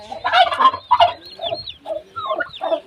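A turkey gobbles in rapid, rattling bursts close by, several throaty calls broken by short gaps, with softer clucking fowl notes between them.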